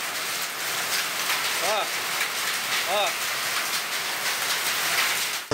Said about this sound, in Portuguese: Os moradores registraram o momento em que a forte chuva caiu em Nova Olinda do Norte.